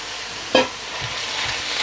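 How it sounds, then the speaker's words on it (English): Minced meat hits a pan of cooked onions and fries with a soft, steady sizzle, marked by one sharp clack near the start and faint stirring scrapes afterward, close and moderately loud. "the onions are now ready and we can add the meat straight into them"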